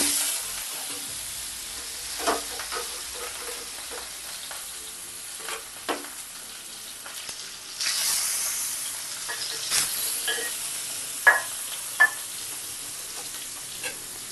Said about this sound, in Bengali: এবার এক এক করে মাছগুলোকে ছেড়ে দিচ্ছি।